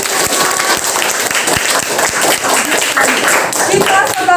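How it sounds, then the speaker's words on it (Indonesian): Students in an elementary school classroom clap together, a loud, busy patter of many small hands close by, with young voices chattering through it. "Tepuk tangan."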